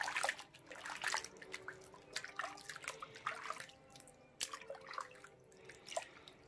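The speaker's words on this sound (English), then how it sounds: "then you're just gonna place it back in the water" A foot lowered back into a warm pedicure soak basin, giving soft close splashes and drips of water with a light trickle that comes and goes, and no talking.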